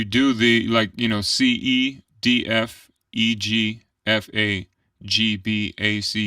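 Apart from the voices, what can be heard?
No distinct noise like a dog, phone or traffic.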